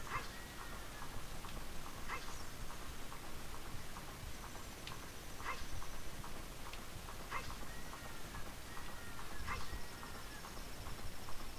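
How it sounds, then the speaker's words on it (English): Horse Epona in The Legend of Zelda: Ocarina of Time Master Quest, with repeated clip-clop hoof steps and short whinnying calls over a busy, steady game background. "I said, Epona, if you neigh one more time, I will shoot you"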